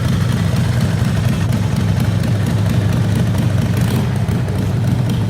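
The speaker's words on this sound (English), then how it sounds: "This is Yanko's motorcycle" A motorcycle sits idling close by outdoors, a loud, steady low rumble throbbing evenly with no speech.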